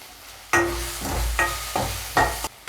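Garlic, green chili and asafoetida fry in a pan for Tamil sambar, with a low sizzle broken by about four rhythmic scraping stirs.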